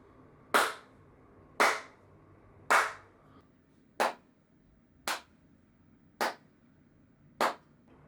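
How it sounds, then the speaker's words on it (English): Seven sharp, single hand claps in a room, evenly spaced about a second apart, each crisp and moderately loud with a brief decay and silence between. "So the first test is a clapping test."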